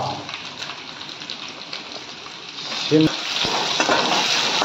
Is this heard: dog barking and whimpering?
no